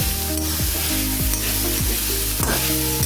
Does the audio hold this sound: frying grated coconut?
yes